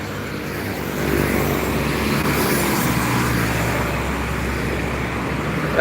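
A long Simba Surya container truck rolls past on a roadside highway, a steady broad engine and tyre roar rising slightly and holding close amid continuous traffic noise, with no talking.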